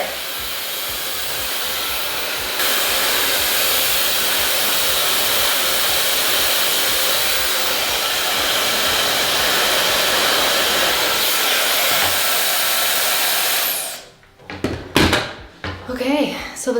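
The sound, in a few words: hair dryer blow drying short hair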